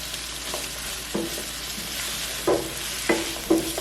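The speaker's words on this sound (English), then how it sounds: "We're going to saute these for about another 2 minutes" Apple pieces sautéing with onions in a pan for a pork chop onion sauce: a soft, steady sizzle broken by a few sharp spatula clacks and stirs toward the end, with no talking.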